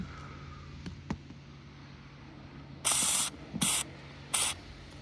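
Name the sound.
rust protection spray sprayed onto a rusty car bolt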